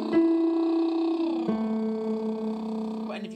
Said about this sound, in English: It will sound like this if you are lip fuzzing or trilling.